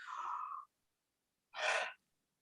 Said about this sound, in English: Just a standard yawn.